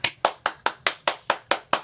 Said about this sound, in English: Spirit, there's like a round of applause happening for you.